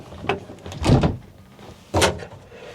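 The door of an old abandoned GMC RV being worked open, two separate creaking, scraping bursts of metal with a short knock between them, close and loud against a quiet background.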